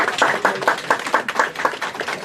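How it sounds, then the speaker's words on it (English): An audience claps in a loose, rhythmic pattern for a woman being recognized for recovering money, the hand claps close and fairly loud with little else heard. "Clap for her, all of us."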